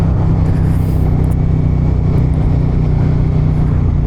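Riding a 2023 Suzuki SV650 motorcycle: a steady, loud engine drone with a deep rumble holds evenly throughout, with no voices.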